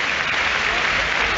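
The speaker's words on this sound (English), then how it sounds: "the applause here at Craven Cottage" Stadium crowd applause at Craven Cottage during a Premier League match between Fulham and Manchester City, a broad, steady wash of clapping from a large distant crowd.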